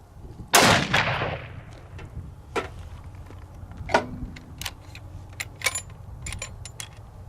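One loud report from an Accuracy International Mk13 Mod 7 sniper rifle during a 200-yard range test, its echo fading into several sharp, separate mechanical clicks and knocks.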